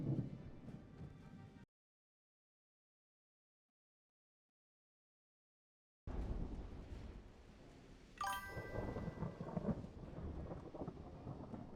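Steady rain hisses and rumbling thunder rolls through a naval battle in the video game Ultimate Admiral Dreadnoughts, broken by a few seconds of silence before the storm returns loudly with a sharp crack partway through.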